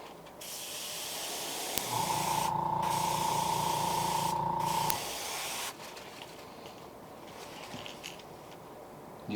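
Spray paint hissing onto a vintage-style fishing lure, a steady close burst of about three seconds laying down another coat, followed by quieter handling and room noise.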